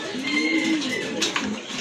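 Kaldom fancy pigeons in a seller's loft give soft, low cooing in a steady rolling murmur with a few brief higher chirps, close by and moderately loud with no talk.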